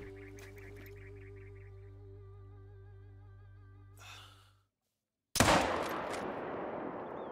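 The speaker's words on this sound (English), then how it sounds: "Alright, let's go for the shot." A single loud rifle shot rings out in the hunting video game theHunter: Call of the Wild, aimed at an animal about 170 yards away. A sudden sharp blast with a long echoing tail follows a faint ambient game hum and a brief silence.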